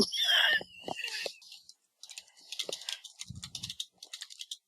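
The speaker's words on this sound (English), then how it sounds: "All I hear is a bunch of typing." Soft computer keyboard typing in quick irregular bursts, close and fairly quiet, after a brief stretch of muffled voices.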